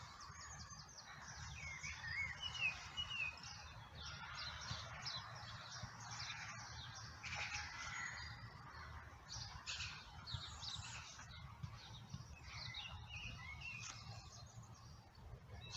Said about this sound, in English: I can still hear the birds singing all around.